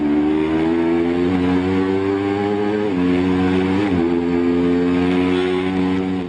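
Racing motorcycle at full speed during the Isle of Man TT, heard from onboard: a loud, continuous high-revving engine howl with brief dips at gear changes, wind rush underneath.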